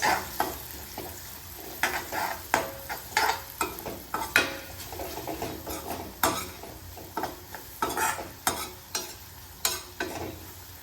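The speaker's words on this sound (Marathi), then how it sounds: "धना पावडर रेड चिली पावडर आणि गरम मसाला मिक्स" Spice powders of coriander, red chili and garam masala being stirred into a pan for sprouted matki usal, with repeated scraping spoon strokes against the metal in an irregular rhythm over a soft sizzle, close and clear with no talk.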